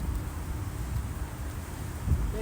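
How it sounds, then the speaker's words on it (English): Steady wind blows across an open London park, Mile End Park, a soft, even broadband rush with low rumbling buffets and no speech. "it's really windy"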